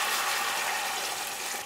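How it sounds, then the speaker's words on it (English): Beef broth with garlic and a peeled onion pours steadily into a Ninja Foodi pot, a close, continuous splashing gush of liquid for a moment. "Slowly pour it into the Foodi."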